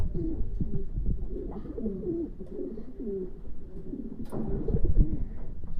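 Jacobin pigeons cooing in a pet loft, several soft, low, rolling coos overlapping one after another, fairly close and steady throughout, with no talking.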